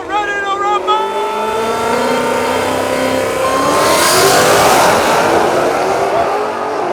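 Ford Mustang engines rev hard and roar as they accelerate in a race, the pitch climbing steadily, loud and close, with excited voices over the start.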